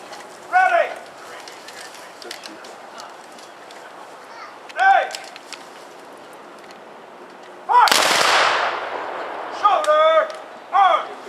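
A battalion of Civil War reenactors fires musket volleys, with one big crashing volley and several sharper reports spread across the stretch, outdoors amid birdsong and shouted commands.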